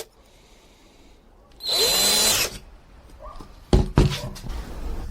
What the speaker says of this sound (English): using the same screwdriver, I'm just going to drill some small holes here